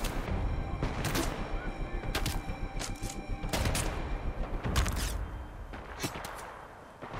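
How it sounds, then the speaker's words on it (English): Sustained gunfire and grenade explosions from the shooter video game Titanfall 2, dense bursts of shots and blasts repeating throughout at steady loudness, with some talking faintly mixed in. "Can you stop shooting at me? Stop throwing your filthy grenades."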